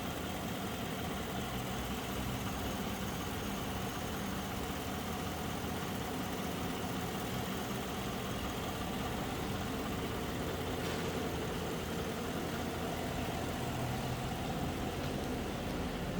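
A 2014 Chevrolet Silverado V8 pickup truck engine idles steadily at a low rumble for the whole stretch. The sound is even and unbroken, with no voices.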